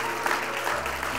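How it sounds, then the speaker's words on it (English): A church congregation at a Sunday morning Easter service claps its hands in praise, a brief, full round of applause filling the room. "Let's give the Lord one more hand clap of praise."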